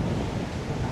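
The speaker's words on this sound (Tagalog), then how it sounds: "lakas ng hangin." Strong wind roars across the microphone in a dense, continuous rush that fills the whole second.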